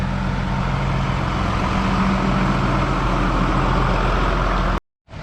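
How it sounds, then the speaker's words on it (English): A tractor engine runs steadily with a low droning hum and the noise of a DODA slurry pump, continuous and loud throughout, then cuts briefly near the end. "It's a beautiful tractor, and our new DODA pump."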